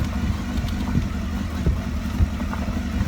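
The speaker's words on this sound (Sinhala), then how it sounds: "හැබැයි ගියර් එකේ තමයි යන්නේ බයිසිකල්" A motorcycle rides in gear along a narrow road, with a steady low engine drone and slight rises and falls in throttle, close and continuous with no talk.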